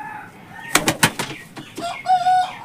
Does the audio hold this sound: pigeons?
yes